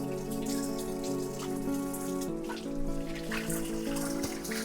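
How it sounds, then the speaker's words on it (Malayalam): Mountain water running down from the hills in a Sikkim village, used for washing leaves, a continuous trickling, splashing flow close by, with no talk. "ഇതൊക്കെ മലം മുകളിൽ നിന്ന് വരുന്ന വെള്ളമാണ്"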